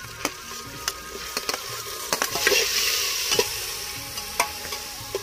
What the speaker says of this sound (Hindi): इधर टमाटर को भी एक मिनट भून लिए प्याज के साथ